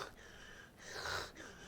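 A human voice imitating alien creatures gasping as they climb up over rock faces: two or three breathy, wheezing gasps, faint and close, with no other sound.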